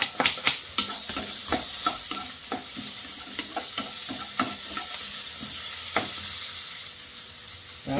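Garlic and onion sauté in a pan for paksiw na bangus, a continuous sizzle punctuated by regular spatula scrapes and clinks, loudest in the first few seconds.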